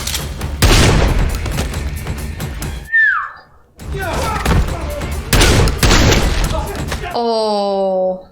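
Gunfire in the action film John Wick Chapter 3: loud bursts of shots and booms fill the scene, with a short quieter gap mid-way, mixed with film dialogue and music.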